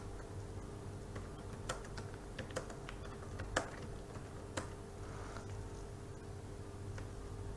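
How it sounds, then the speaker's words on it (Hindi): Faint, quick keystrokes on a computer keyboard arrive in irregular bursts of sharp clicks, with a few louder taps standing out over a steady low room hum. "तो अपने चैनल का नेम टाइप करता हूँ।"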